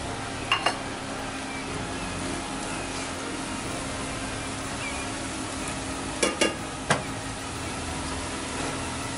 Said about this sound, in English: as the garlic gets golden, I don't want to burn it, I don't want to brown it too much, we're going to start to add in our mushrooms